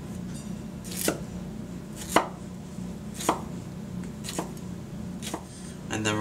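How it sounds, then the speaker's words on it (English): A knife slices hearts of palm into quarter-inch pieces on a cutting board for a vegan ceviche, giving about six sharp, evenly spaced cuts, one roughly every second, close and clear over a low steady kitchen hum. "Next, we're going to cut our hearts of palm."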